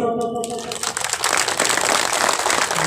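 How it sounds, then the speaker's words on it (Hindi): Crowd applause at an outdoor political rally breaks out after a brief stretch of speech, a dense, sustained clapping roar that holds loud and steady to the end. "वाह क्या तालियां है फर्स्ट क्लास तालियां"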